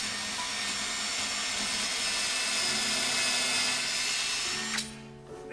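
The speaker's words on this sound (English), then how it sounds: "you pre-drill a small hole." A power drill bores a small pilot hole into a hardwood floor at a squeaky spot, giving a steady high-pitched whine that holds for several seconds, then winds down near the end.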